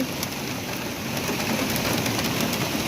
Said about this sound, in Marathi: आज सकाळ सकाळ मुंबईच्या बांद्रा या ठिकाणी पावसाने मोठी जोरदार हजेरी लावलेली आहे